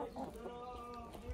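Hens in a backyard garden flock cluck softly and intermittently at close range, with a few short rising calls over a quiet outdoor background.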